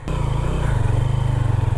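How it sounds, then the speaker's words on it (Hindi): Motorcycle engine kick-started on a camping trip, running loud and close with a rapid, steady throbbing idle that begins almost immediately and continues throughout. "आप बाइक से उतर के, मैं स्टार्ट करके ज़ोर मारूं पैर से"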